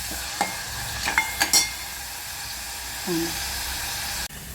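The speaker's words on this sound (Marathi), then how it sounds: "यामध्ये आपण एक कढीपत्ता ॲड करणार आहोत भाजून घ्यायचं" Curry leaves crackle and sizzle in a pan with onion, with a few sharp pops and scraping stirs against the metal under a steady frying hiss.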